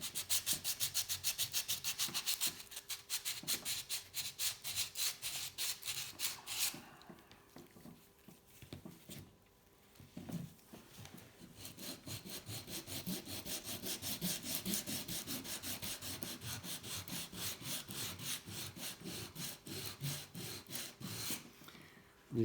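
Hand sanding with 180 grit sandpaper on a gravel touring bike build, a steady rhythmic rasping scrape that pauses briefly around the middle, then resumes with continuous back-and-forth strokes close by.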